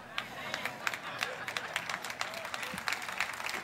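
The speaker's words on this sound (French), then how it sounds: "je ne sais pas pourquoi vous applaudissez" A church audience applauds in a quick, scattered burst of clapping at moderate distance, with no one speaking over it.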